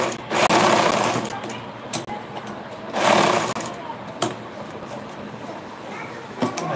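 A sewing machine runs stitching along the edge of a shirt, in loud bursts with short pauses between, close by and mostly alone.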